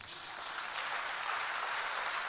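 Church congregation applauding together during a sermon, a dense, steady wash of many hands clapping at a moderate, even level throughout with no voices over it.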